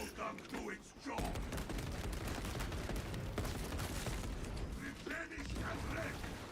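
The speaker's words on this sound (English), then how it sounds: "Let the servo gun do its job." A servo gun in the video game Space Marine 2 fires in a sustained, rapid mechanical burst, loud and dense, with brief ratcheting clatter and a pause before firing resumes in a heavy, continuous rattle.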